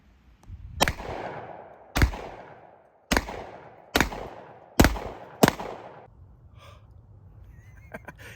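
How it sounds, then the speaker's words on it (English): Six sharp, loud pistol shots from a Smith & Wesson M&P 10mm 2.0 fired at a pumpkin outdoors, spaced about a second apart, each with a decaying echo, followed by quieter handling noises. "I'm gonna shoot this pumpkin right here."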